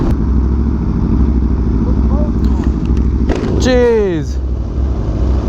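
Aprilia RSV4 Factory motorcycle engine running steadily while riding, a continuous mid-pitched drone with a rising-then-falling pitch sweep near the middle, close and loud, with a brief spoken exclamation over it.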